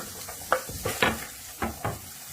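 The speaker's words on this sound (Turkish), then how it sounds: "Yarım çay bardağı sıvı yağını tencereme alıyorum ve üzerine soğan ve sarımsakları ekleyip birkaç dakika kavuruyorum." Onions and garlic cook in oil in a pot, giving a soft sizzle broken by a few distinct stirring scrapes and knocks spaced through the moment, close and fairly quiet.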